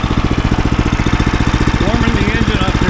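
A sawmill's engine warms up with a rapid, steady mechanical chugging close by, and someone talks over it.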